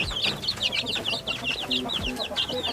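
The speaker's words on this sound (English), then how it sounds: "The chickadees eating apples. They love apples." Chickens cluck and chirp in steady, busy bursts at close range while pecking at apples on a tropical fruit farm, with faint farm background noise beneath.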